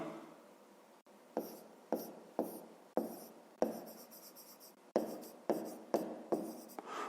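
A math solution for a fifth-grade exercise is written by hand, with close, scratchy pen strokes arriving in short separate bursts with small pauses between them, no voices.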